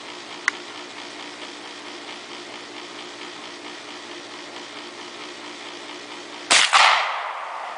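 A rifle firing a bullet loaded with lubricant during a test, heard as one loud sharp report near the end with a short decaying echo, after a steady low background hum.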